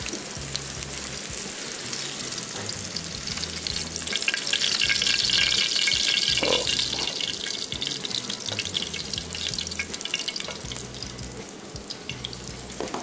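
Dahi qeema kebabs fry in a pan, a steady dense sizzle and hiss running throughout, close and moderately loud, swelling in the middle, with occasional faint clinks and no talking.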